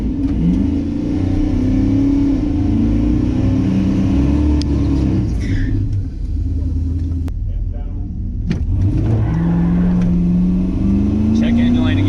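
A Dodge Dakota R/T truck with a Mopar M1 intake accelerates hard off the line on a track, engine roaring and climbing in pitch, dipping briefly as if shifting, then pulling strongly again, loud and close throughout.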